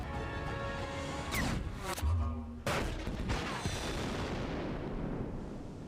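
A sniper rifle fires during a Star Wars: The Bad Batch animated episode, giving a few sharp cracks and a heavy boom among dense action effects and score.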